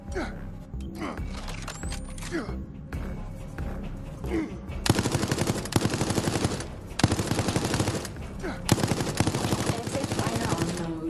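Rapid machine gun fire from the video game Resident Evil Resistance comes in loud, sustained bursts in the second half, broken by brief pauses, after a quieter stretch of other game sounds.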